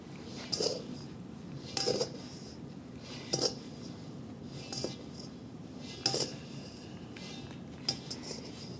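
A dough scraper scoops soft focaccia dough into a pan: a handful of light scraping and clinking taps against the pan, spaced a second or two apart, close and fairly quiet over a low room hum.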